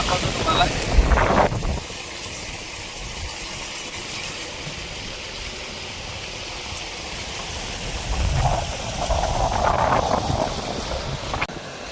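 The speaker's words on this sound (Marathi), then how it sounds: "पावसाचा माहोल दाखवतो तुम्हाला" Monsoon rain and wind outdoors during a ride, a steady hissing wash that swells louder at the start and again near the end, with rumbling gusts in between.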